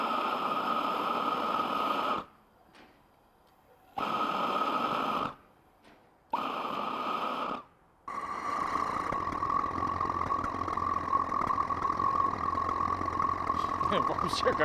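An injection gas burner roars as a dense, hissing rush, cut off abruptly in several short gaps and then burning continuously and steadily louder, with brief speech-like bits mixed in.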